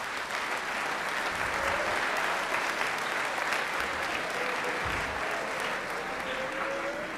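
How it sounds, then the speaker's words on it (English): Sustained applause from a large crowd at a high school academic awards assembly fills the space steadily, a dense wash of clapping with no pauses. "Let's give them a round of applause."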